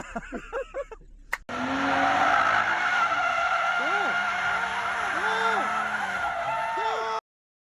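An all-wheel-drive BMW M440i xDrive drifts with loud, sustained tire squeal over a revving engine for about six seconds, rising pitch sweeps repeating, then cutting off abruptly; brief talk precedes it.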